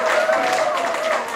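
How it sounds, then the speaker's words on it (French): Audience applause at a humanitarian conference breaks out briefly, a short burst of clapping with a voice speaking over it. "On va applaudir ça."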